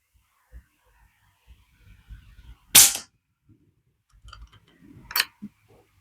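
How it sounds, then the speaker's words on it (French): An FX Maverick .177 air rifle firing a single 16-grain slug: one loud, sharp crack up close in an otherwise quiet space, followed a couple of seconds later by a fainter click and some light handling noise. "Alors je tire en unique coup."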